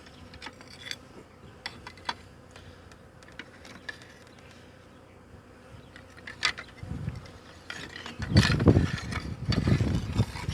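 Bees buzz around a rooftop hive during a cut-out removal, with a steady low drone and individual insects flying close past, plus clicks and scrapes of handling that grow louder toward the end.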